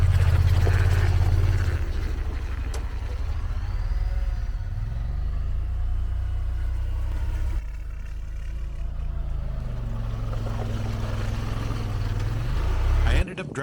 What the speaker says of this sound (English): I ended up driving the Pioneer around the back lot for a while